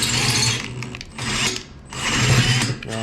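A greased thread tap cuts threads into an oversized bolt hole on a 1989 Suzuki RM250 dirt bike frame, loud close metallic grinding and ratcheting in three sustained bursts with brief pauses between, no talking.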